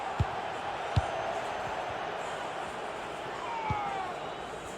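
A large stadium crowd in the FC 26 football video game roars in a steady, dense wash of noise throughout, with a few sharp thuds on top.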